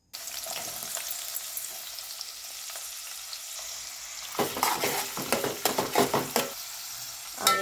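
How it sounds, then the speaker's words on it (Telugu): Onions frying in oil until golden for a country chicken curry, a steady sizzle joined by a run of sharp spatula scrapes and clatters against the pot toward the end. "ఆనియన్ గోల్డెన్ కలర్ వచ్చే వరకు వేయించుకోవాలి"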